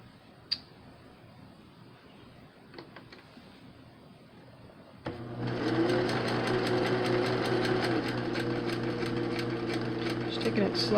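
A sewing machine starts up midway and runs in a fast, steady, close-up rattling stitch across fabric for a Covid-19 mask, after a quiet stretch with a few faint clicks.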